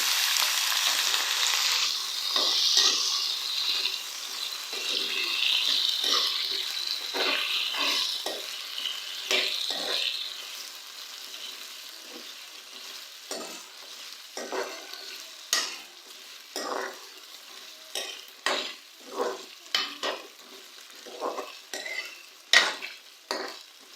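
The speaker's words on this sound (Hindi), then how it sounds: "आलूओं को पहले हम लोग फ्राई कर" Potatoes frying in a pan for a mixed vegetable aloo matar gobi dish: a steady loud sizzle at first that thins out, then a run of sharp scraping stirring strokes against the pan, with no talking.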